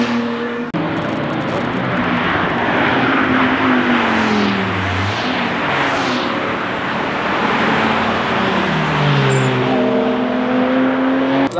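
A BMW E92 M3 lapping the Nürburgring, its engine droning steadily as it passes, with rising and falling pitch as it accelerates and shifts, loud and continuous throughout with road and wind noise.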